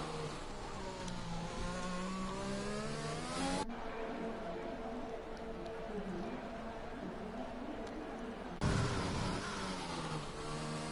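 Racing video game car lapping the Brazil circuit, a steady engine whine climbing and dropping through gear changes, loud and continuous, with brief shifts in tone as the car brakes and accelerates.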